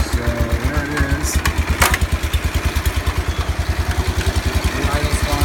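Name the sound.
John Deere 140 H3 lawn tractor engine idling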